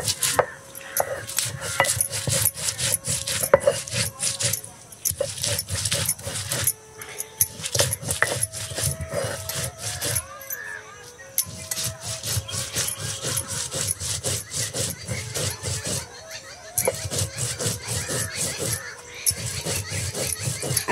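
Salt, green chili, garlic and cumin being ground by hand for a fenugreek flatbread, a steady, loud, close scraping and rasping rhythm of repeated grinding strokes with brief pauses, no speech.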